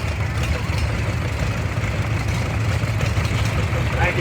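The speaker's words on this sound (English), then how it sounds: "And here we have another John Deere B coming" A 1930s John Deere B tractor runs through a crowded outdoor tractor parade, a steady low engine rumble mixed with crowd and background noise.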